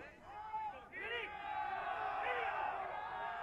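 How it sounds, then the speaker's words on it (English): Spectators at a men's college lacrosse game between Wilmington and Ohio Northern jeer a referee's call: a distant, rising crowd murmur with scattered shouts and groans, under an announcer's voice. "Crowd is not happy with that call."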